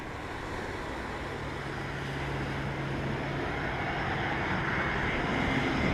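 A Delta airliner lands on runway 07 at Montego Bay in Jamaica, a broad jet roar that holds steady and slowly grows louder as the aircraft comes closer.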